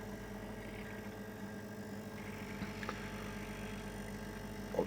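A silent air compressor runs steadily at a warm operating temperature, giving a constant low mechanical hum with a faint rhythmic ticking and a brief clack near the end.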